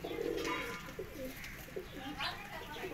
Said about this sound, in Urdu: بڑا نیاب کبوتر ہے ابھی ما شاء الله